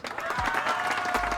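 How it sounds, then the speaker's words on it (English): Brief applause and crowd noise rise together, overlapping claps with a faint murmur of voices underneath. "everyone, round of applause, and welcome to the set"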